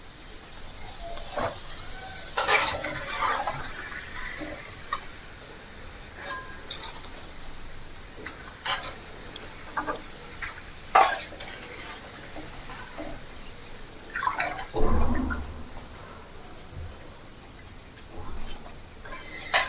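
Potato pieces deep-frying in a kadai of oil for Navaratna mixture: a steady broadband sizzle and hiss with scattered crackles and a few louder bumps and clatters, and no talk.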